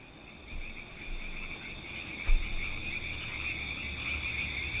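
A frog croaks steadily against a constant high insect-like trill, with one louder thump midway; no voices.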